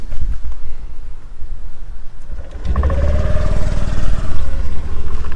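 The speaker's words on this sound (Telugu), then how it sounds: "ఒకసారి బండిని స్టార్ట్ చేసినప్పుడు" A Honda Activa 6G 125cc scooter starts up close by, its engine catching and settling into a steady, loud idle after a brief quieter lead-in.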